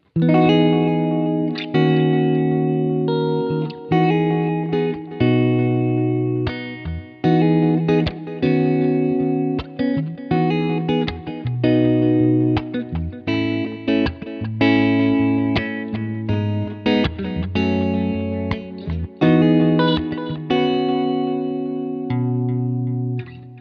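Electric guitar notes and chords ring out through a NUX NDD-3 Edge Delay pedal, each note trailing repeating echoes that stretch and overlap into a shimmering wash.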